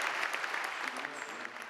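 Steady applause from a dinner crowd of about 360 at a benefit supper for a local historical society, a dense continuous patter of clapping filling the short moment.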